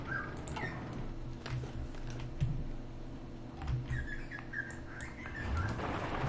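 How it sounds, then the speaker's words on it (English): Birds chirping and squawking loudly just outside a window, with several bright bursts of calls repeating over a steady low background hum. "Those birds are loud."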